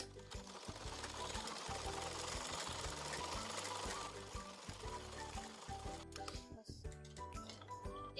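A sewing machine stitches a fabric cover in a quick, even mechanical patter, running steadily up close before slowing and briefly stuttering near the end.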